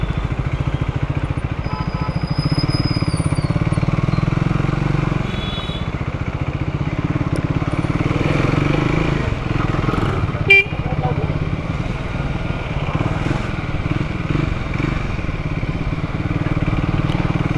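A Triumph Speed 400 motorcycle rides through city traffic, its engine a steady continuous drone with broadband road and wind rumble throughout, a brief horn-like tone near the start and a sharp knock midway.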